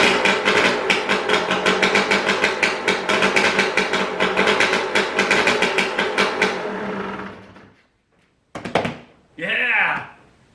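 A KTM 300 EXC two-stroke dirt bike engine running with choke after a top-end rebuild, rapid popping pulses that fade out, then a short blip and more voices at the end.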